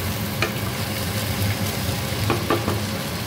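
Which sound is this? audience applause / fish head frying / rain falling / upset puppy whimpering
fish head frying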